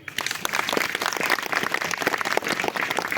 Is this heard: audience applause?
yes